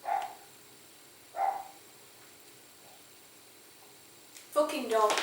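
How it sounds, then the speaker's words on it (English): A dog barks a few times indoors in a home kitchen, with single woofs spaced apart and a short burst of barks at the end, heard alone and fairly close. "Fucking dog."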